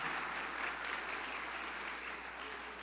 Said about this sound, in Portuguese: vou dar uma salva de palmas pro Fred aí.